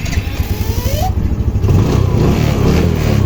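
A Yamaha motorcycle engine cranks and catches after a fuel pump replacement, then settles into a loud, steady idle close by.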